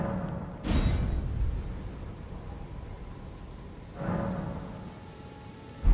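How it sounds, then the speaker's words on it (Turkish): Steady rain hiss from the Elden Ring game world, with two bursts of heavier downpour or distant rumble swelling over a continuous wash of falling water. "Şansımıza full yağmur yağıyor ya."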